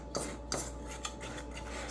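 A whisk scraping and clinking quickly against a bowl of flour, spices and baking soda, a close rhythmic series of scratchy strokes with no talking.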